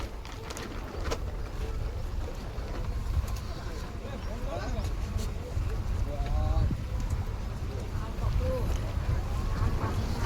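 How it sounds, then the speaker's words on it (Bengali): Lokenath Travels' vessel MV Umesh cruising through the Sundarbans toward the bird sanctuary, a constant low engine drone with wash and wind noise, near and steady, with faint voices in the background. "আমাদের নৌকা চলেছে পাখিরালয়ের দিকে।"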